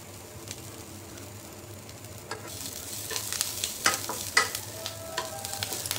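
Spices for vatli dal, a traditional Maharashtrian split-lentil dish, are sautéed in a pan: a soft continuous sizzle with scraping stirring strokes that grow busier and louder toward the end, with no talking.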